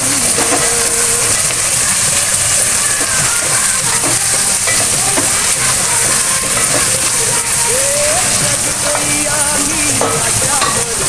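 Val bean dumplings and eggplant fry loudly in a pan for an Aagri-style bhaji, giving a dense continuous sizzle with clattering stirring and scraping throughout.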